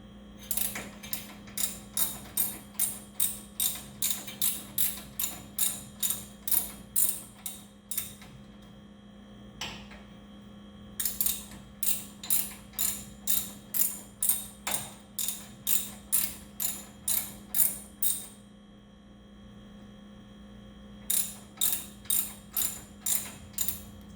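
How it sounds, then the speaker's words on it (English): A hand ratchet runs down the brake caliper bracket bolts on a 2001 Ford Ranger, giving close, rapid bursts of clicking separated by short pauses, over a steady low hum. "I'm going to go ahead and just run them down with my ratchet."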